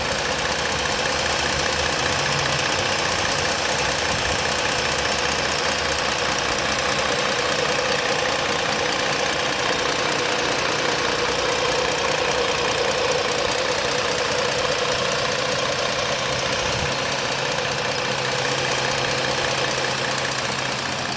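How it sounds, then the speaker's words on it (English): A 2017 Ford Explorer Police Interceptor, a highway patrol vehicle, idles steadily with a continuous mid-range engine hum and faint rattly knock, close and unbroken for about twenty seconds with no talking. "let me go ahead and quiet down for a few seconds so you can hear the engine."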